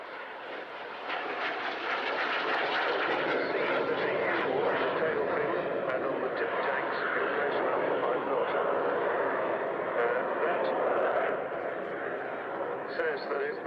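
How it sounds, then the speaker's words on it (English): A small propeller training aeroplane at the RAF Cosford airshow drones steadily overhead, its engine note holding fairly constant and moderately distant while a commentator talks over it. "This particular elegant little aeroplane served at Royal Air Force Finningley, which is now called Robin Hood Airport"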